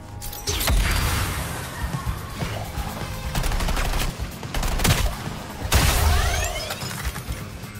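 Sustained bursts of gunfire from Suicide Squad Kill The Justice League, loud and dense, with rapid automatic fire and heavy impacts running nearly the whole time and a brief lull before a fresh volley.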